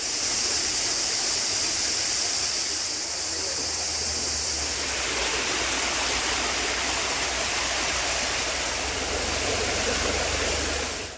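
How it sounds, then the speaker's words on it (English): Muddy spring water gushing from underground after a landslide near a water catchment area: a steady, loud rushing roar that continues without a break throughout. "With the landslide being activated near a water catchment area, muddy spring water has emerged from underground."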